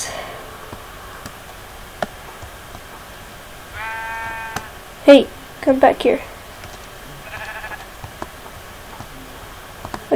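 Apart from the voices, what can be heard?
sheep bleating in the video game Minecraft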